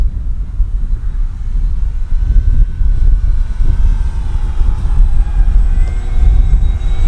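Arrows RC Husky model airplane flying a knife edge, its electric motor a steady distant drone over outdoor wind rumble, with no voices.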